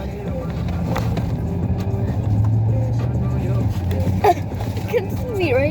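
A pickup truck drives along with a steady low engine and road rumble heard from inside the cab, while a person talks and exclaims over it.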